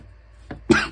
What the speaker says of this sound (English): back from that crazy coughing fit